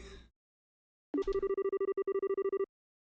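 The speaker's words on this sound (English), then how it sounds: "Every time the phone rings, nothing good comes of it" A telephone rings in the video game Trails in the Sky, a rapid burst of bright electronic pulses trilling for about a second and a half after a short gap, clear and alone.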